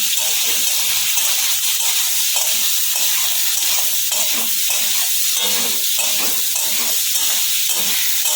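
Soybean stew being stirred in a hot pan, a loud continuous sizzle and bubbling hiss with soft rhythmic scraping strokes of a spoon underneath.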